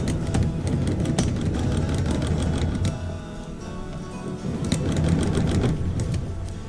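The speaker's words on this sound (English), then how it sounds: "I'm going to start sewing on my border." A sewing machine stitches a quilt border in rapid, steady mechanical chatter, close and continuous, with a short slowdown midway before running at full speed again.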